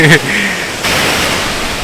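A Swiss waterfall pours down and sprays heavily nearby, a loud, steady rushing hiss; a voice speaks briefly at the start.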